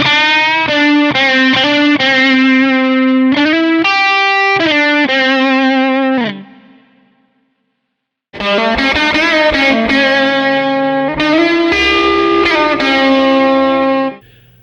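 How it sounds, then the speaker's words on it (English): Distorted electric guitar on a Fender Stratocaster plays a melodic lead line of bent and sustained notes in a mid-1990s style, pausing briefly midway before a second phrase, loud and upfront with no talking. "I'm going to record a little lead lick using my Fender Stratocaster"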